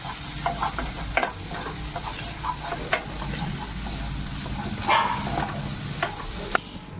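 Spice paste stir-fried in a pan for chicken kosha, a continuous sizzle under frequent spatula scrapes and knocks against the metal, with no voices.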